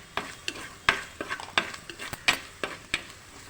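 Fenugreek powder being stirred into pearl spot fish masala frying in a pan, with a quick run of close spoon scrapes and knocks against the pan over a soft sizzle and no voices.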